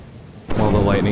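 A sudden heavy rumble of thunder breaks out during a storm in the video game Lethal Company, loud and sustained after a quieter start, with a voice talking over it.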